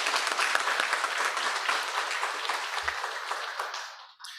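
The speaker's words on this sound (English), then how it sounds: "let's give a round of applause" Audience at a media and Capitol Hill briefing breaks into a round of applause, dense even clapping throughout that tapers off near the end.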